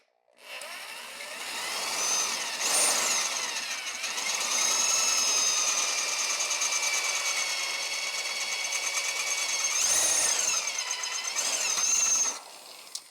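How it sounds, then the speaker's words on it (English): Power drill with a 5 to 6 mm bit grinding off a rivet head on an exhaust heat shield, a loud, close whine holding steady for about ten seconds with brief dips in pitch as the bit bites. "we're going to use a 5 to 6 millimeter drill bit, and we're going to drill the head of the rivet off"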